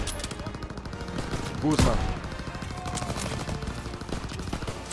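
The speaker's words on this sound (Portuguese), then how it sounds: "Tem aquele maldito ali que tá atirando" Gunfire in Call of Duty WWII sounds as rapid, loud bursts of shots with a sharp blast near the middle, while someone talks over the battle.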